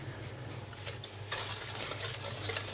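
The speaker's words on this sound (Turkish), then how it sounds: "Normal puding pişirir gibi karıştırarak" A spoon stirs pudding as it cooks on the stove, a soft, continuous scraping and swishing under a low hum, close and quiet, with no speech.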